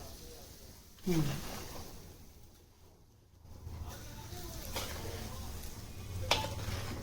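Fish pieces for pickle sizzle in hot oil, a soft continuous frying hiss with brief clinks and stirring scrapes of a utensil, fairly faint and close.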